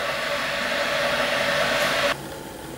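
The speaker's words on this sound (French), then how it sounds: "ce que vous entendez, c'est l'eau qui est en train de chauffer, tout simplement." Water heating for rehydrating long-shelf-life food gives a steady, loud, close hiss. The hiss stops abruptly near the end and leaves a quieter rushing background.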